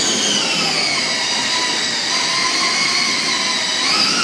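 A 1/4 scale RC 4x4 Killer Krawler spins its wheels in a steady, loud high-pitched whine that holds for several seconds without pause.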